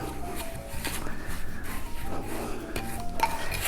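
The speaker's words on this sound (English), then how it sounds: "you're just going to stir it around till it's combined" A spoon scrapes and rubs through cookie crumbs mixed with melted butter in a bowl for a pie crust, giving steady close gritty scraping strokes with no voices.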